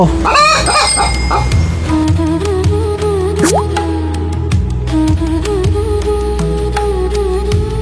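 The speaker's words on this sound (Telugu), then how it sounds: "కోళ్ళు పరిగెడుతున్నాయి, పట్టుకో" Cartoon chickens clucking and squawking as they scurry about a farmyard, with busy cartoon sound effects, music and drips mixed in steadily throughout.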